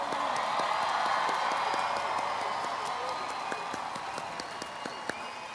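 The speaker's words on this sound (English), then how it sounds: "Let's give another big round of applause for our 2021 graduating class of Cypress Ridge High School." Steady applause from a crowd at the Cypress Ridge High School Class of 2021 graduation ceremony, dense clapping with scattered cheers that holds fairly even and tapers slightly toward the end.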